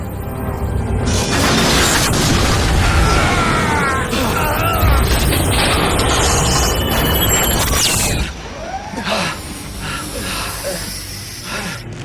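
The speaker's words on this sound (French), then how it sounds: "je vais faire exploser cette maudite tour" A sci-fi film tower explosion with a sustained roaring, crackling blast and debris rumble that holds loud for several seconds, then gives way to quieter scattered crashes and hissing.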